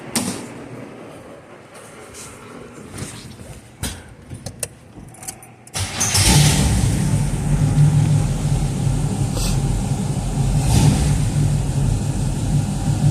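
A second-generation Camaro engine cranks and catches partway through after some quiet jangling and handling noises, then settles into a loud steady rumble with a couple of light blips of revving.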